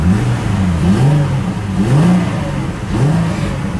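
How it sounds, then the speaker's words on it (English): A 2009 Ford Mustang V6 revved from inside the cabin, the engine note swelling and dropping in three or four loud blips over a steady idle, with no talking. "And I'll go ahead and rev it from inside."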